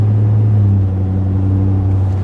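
A tuned pickup truck with a 10-speed transmission drones steadily from inside the cab, a loud, continuous low engine hum that holds the same pitch throughout.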